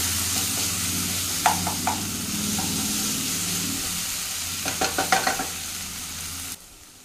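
Ginger garlic paste frying in a pan for chole paneer curry keeps up a close, steady sizzle while a spatula stirs and scrapes in short bursts, before the sound drops away abruptly near the end.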